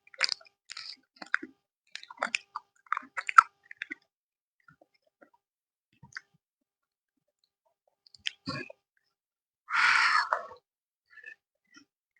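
Someone chews banana with yogurt in soft, intermittent bursts of wet mouth clicks and bites, close and quiet, with pauses between and a brief louder rustle near the end.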